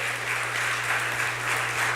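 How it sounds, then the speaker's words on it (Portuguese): A church congregation applauds during a sermon, a steady wash of clapping held at an even level throughout, with a constant low hum running underneath. "Aplauda ao Senhor mais uma vez."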